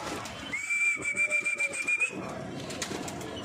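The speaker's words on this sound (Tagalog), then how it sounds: "Op, nagdapuan na sila mga kabuga." Pigeons flutter and call nearby as they land, with a sustained whistle-like tone over a rhythmic series of soft flapping bursts, then quieter rustling afterward.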